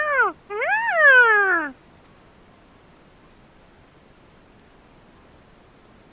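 A cat in Final Fantasy XIV gives two clear, close meows, a short one followed by a longer drawn-out one, and then quiet faint background hiss.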